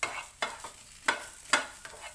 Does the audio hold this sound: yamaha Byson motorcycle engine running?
no